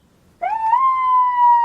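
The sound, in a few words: police interceptor siren being tested at half volume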